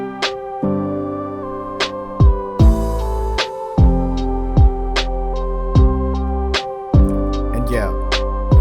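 Lo-fi beat with a synth lead over sustained piano chords and a soft pad, punctuated by regular deep thumping hits, loud and close, playing without any voices.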